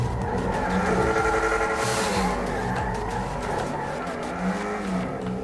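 A car racing at speed in the video game GTA V FiveM, with a continuous droning engine whine and bursts of tyre skidding, loud and close throughout.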